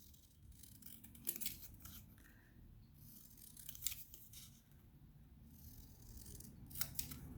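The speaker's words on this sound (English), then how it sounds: "we're going to take our scissors and we're going to cut on the black line around our Mother's Day card" Scissors snip through paper while cutting out a Mother's Day card along a black line, with crisp, close, quiet cuts recurring in short bursts over a low background hum.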